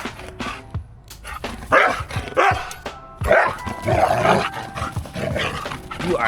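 A dog named Kuzco at an Oregon coast campsite barks in a rapid, irregular string of sharp woofs and yips, close and loud, with a few whimpering notes between them.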